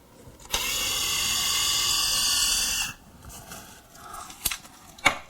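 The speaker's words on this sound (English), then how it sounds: "So now we can go ahead and drill. Now I'm at only speed 1." A Festool Ti-15 hybrid impact driver drills with a pilot bit at its lowest speed setting, giving a steady, close whir for about two and a half seconds, followed by a few sharp clicks and knocks.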